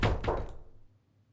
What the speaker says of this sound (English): our game was interrupted by a loud knock on the door